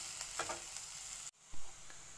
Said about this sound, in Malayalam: രണ്ട് സവോള എടുത്ത് നീളത്തിൽ, ഇത് ഇതുപോലെ നീളത്തിലരിഞ്ഞ് ഒരു ചുവട് കട്ടിയുള്ള പാത്രത്തിലോട്ടിട്ട് നന്നായി വഴറ്റിയെടുക്കുക